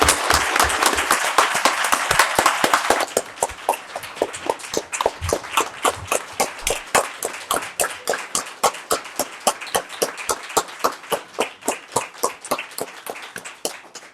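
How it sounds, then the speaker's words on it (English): A town council meeting audience applauds years of service: a full burst of clapping for about three seconds, then a thinning patter of a few hands clapping in a slow, steady rhythm that gradually fades. "So can we give a round of applause for all the years of service?"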